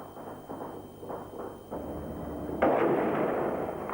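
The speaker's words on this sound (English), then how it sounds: "the city echoed to the sound of gunfire as the army clashed with remnants of the security forces" Muffled bursts of gunfire thud repeatedly at a distance across a city during an army clash with security forces in 1989, echoing over a steady rumble, with one louder crack near the end.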